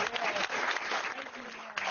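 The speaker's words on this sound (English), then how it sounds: "Let's give them a round of applause." A round of applause for school bus staff at a school district board meeting, steady clapping from the room sustained throughout, with some voices mixed in.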